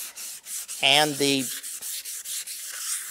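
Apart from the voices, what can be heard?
sanding wood with tung oil and sawdust slurry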